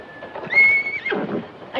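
A high-spirited racehorse on a range gives a loud, close whinny that rises into a sustained shrill neigh and breaks off with a shuddering, breathy finish.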